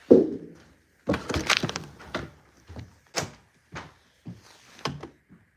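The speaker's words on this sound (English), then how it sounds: "I think someone's knocking on my door." Several dull thuds of knocking on a house door, spaced irregularly and fairly close, alone with no talk.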